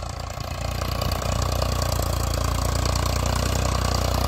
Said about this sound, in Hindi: हाई के सेकंड गियर में चल रहा है भाई ट्रैक्टर।